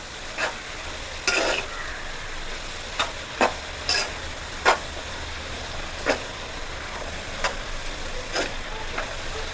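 Vegetable noodles are stirred and tossed in a hot pan under a steady background sizzle, with about a dozen separate scraping strokes of the utensil against the pan at irregular intervals.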